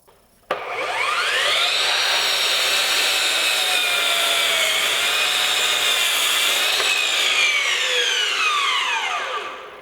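A battery-powered 18V Surgeon 12-inch dual-bevel glide miter saw running on a 12Ah battery spins up with a sharp whine and cuts through wood in one sustained, loud, close pass, then winds down, with no talking.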